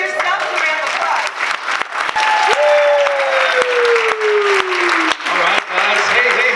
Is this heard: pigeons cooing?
no